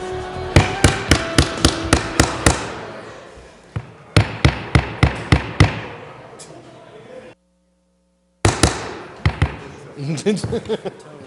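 A wooden mallet bangs repeatedly at a city council budget meeting, in sharp close strikes. Runs of rapid knocks are broken by a brief silence, and people talk around them.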